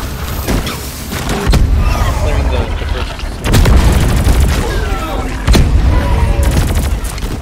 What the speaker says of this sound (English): No, the explosion, the grenade.